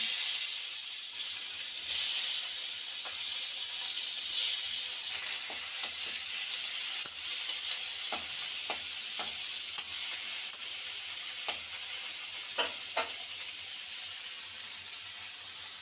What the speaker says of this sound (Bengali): তেল দিয়ে এই টমেটোটা আর পেঁয়াজটা, লঙ্কাটা তিনটে নাড়াচাড়া করে নেবো একটু